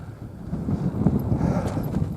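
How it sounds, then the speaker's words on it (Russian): Steady low rumble of wind buffeting outdoors while fishing, a continuous muffled roar with slight gusts, no voices. "О, ветер какой"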